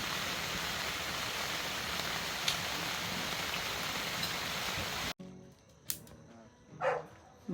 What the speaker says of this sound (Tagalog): After na malakas ng ulan.